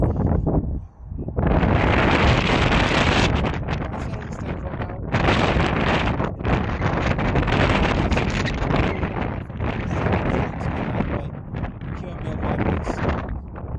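Strong wind gusts roar across the microphone at an outdoor sports match, loud and nearly continuous with brief lulls, filling the whole stretch without talk.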